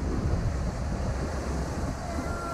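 Rushing water and surf-like wash from an Intamin Rapids river raft ride at Energylandia, a steady broadband roar that stays loud and close for the whole stretch with no clear speech.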